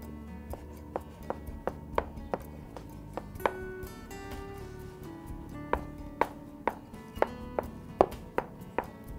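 A knife chops cooked shrimp and other seafood salad ingredients into smaller pieces for a bow tie pasta salad. About twenty sharp, quiet taps land on a board in loose bursts, with short pauses between runs.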